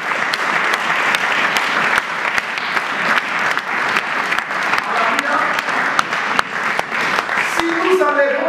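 A church congregation at a baptism service bursts into sustained, loud applause that carries evenly throughout, with sharp claps standing out and voices rising underneath, some singing or calling out toward the end.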